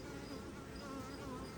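Bees laden with pollen buzz steadily around a hive during a beekeeping session, a faint continuous drone with no talk.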